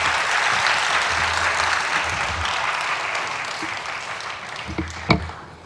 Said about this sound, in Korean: 우리 뜨겁게 박수로 격려해 주시기 바랍니다